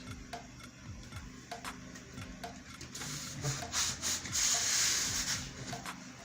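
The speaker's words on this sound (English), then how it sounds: "You can turn it, use your hand to smoothen it." Hands rubbing and smoothing Ankara fabric glued onto a small box bag, a soft close brushing and rubbing texture with a few light taps, growing slightly louder toward the end.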